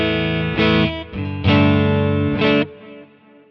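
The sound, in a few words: electric guitar clean Fender-style tone through amp modeler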